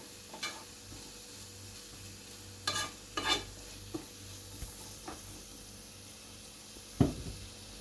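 Chili powder and turmeric are stirred into a pan of frying shakshuka, with a soft steady sizzle beneath a few scattered scraping and clinking strokes, one sharper near the end.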